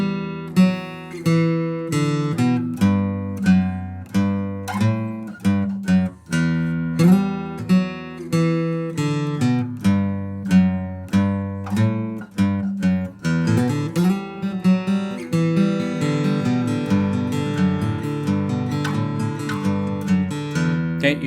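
Guitar playing the foundation notes of an intro riff: a steady series of plucked, ringing notes, clear and close, that moves into a denser, continuous strummed pattern in the second half, with no talk.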